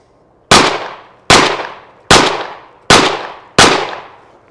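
Five loud, sharp blasts from a MAC 1014 semi-automatic shotgun firing Winchester USGI double-aught buckshot, evenly spaced about 0.8 seconds apart, each with a quick decaying echo at an outdoor range.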